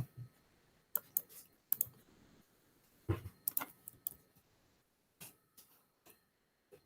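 Keys struck on a computer keyboard while entering a command, a handful of separate, sharp clicks spread out with pauses between them, some in short bursts, faint and close, with no talk.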